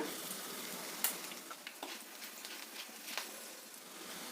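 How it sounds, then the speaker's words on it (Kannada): Mustard seeds, urad dal, chana dal, curry leaves and a little garlic sizzling in hot oil, giving a steady dense crackle with scattered sharp pops throughout and no voices. "ಎಣ್ಣೆ ಬಿಸಿಯಾಗಿದೆ ಸಾಸಿವೆ ಹಾಕ್ತಾಯಿದ್ದೀನಿ ಉದ್ದಿನಬೇಳೆ ಕಡಲೆಬೇಳೆ ಕರಿಬೇವಿನ ಸೊಪ್ಪು ಸ್ವಲ್ಪ ಬೆಳ್ಳುಳ್ಳಿ"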